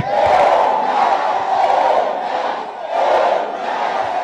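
A church congregation shouts amen together in loud, sustained bursts, swelling and dipping in waves with brief pauses between, no single voice standing out.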